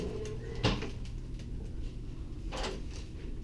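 A door opens in a hotel room, giving a brief soft knock and click, then a fainter rattle a couple of seconds later over a quiet room hum.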